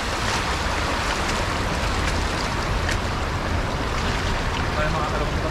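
Floodwater rushes through a vegetable and tomato field, a dense, constant roar of churning water that stays loud and unbroken throughout with no pauses.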